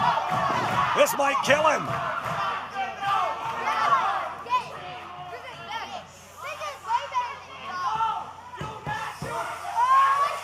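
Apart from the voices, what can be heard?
wrestling crowd chanting in arena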